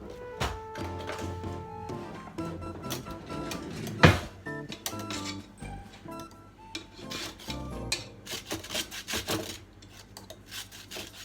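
Lemon zest grated for a cheesecake, heard as a run of close, raspy scraping strokes in an irregular rhythm, with a few light knocks and rubs between them.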